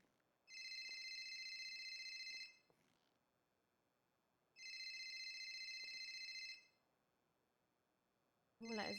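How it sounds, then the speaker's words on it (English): A telephone rings in two long electronic bursts separated by a pause, with a third ring just starting; no one speaks. "Now his phone's ringing."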